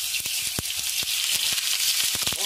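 A salmon steak pan-frying over high heat, giving a bright continuous sizzle with scattered crackles and pops throughout, close and fairly loud, with no talking.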